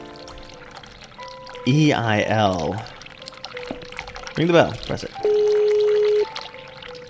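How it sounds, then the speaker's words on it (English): A toilet flushing and overflowing in The Cat Lady video game, a watery pouring rush heard under and between voices speaking, with a few short tonal game sounds. "we're going to flush the toilet and we're going to flood this"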